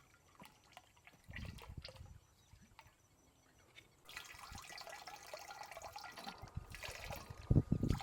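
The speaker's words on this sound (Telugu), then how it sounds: "కలపడానికి వాటర్ పెట్టాము" Water pours and splashes into a drum, a soft trickle growing into a steadier rushing flow, fairly close and quiet.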